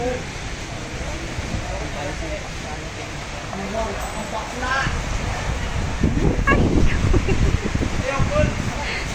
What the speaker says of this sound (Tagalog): Ayan, mahangin na naman. Pabugso-bugso yung hangin.